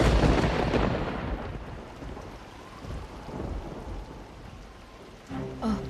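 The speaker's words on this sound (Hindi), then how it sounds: "सभी जगह भारी बारिश हुई है" Heavy rain pours down with loud rolling thunder, a big rumble opening the passage and fading into steady dense rainfall, with another swell near the end.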